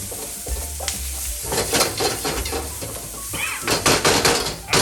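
Ginger fries briefly in a hot pan for a ginger beef stir-fry, with a steady near sizzle, stirring scrapes and several utensil knocks against the pan. No voices.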